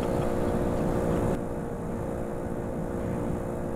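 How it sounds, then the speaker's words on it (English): A car's engine in The Long Drive cuts out: a steady, loud mechanical drone drops abruptly about a third of the way in, leaving a lower, quieter hum that carries on to the end. "Oh, I think my engine died"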